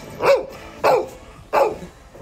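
A dog gives three sharp barks at an even pace, each one loud and close, with short quiet gaps between them and no one talking.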